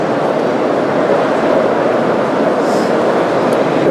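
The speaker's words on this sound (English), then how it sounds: "with sound, analog, DCC sound premium, also a Swiss version" Brawa model SBB cargo locomotive running on digital DCC premium sound, giving a steady, loud, continuous rumbling drone with no break or pause throughout.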